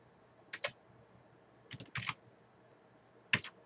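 Soft keystrokes on a computer keyboard come in three short bursts of a few clicks each, close up in an otherwise quiet room.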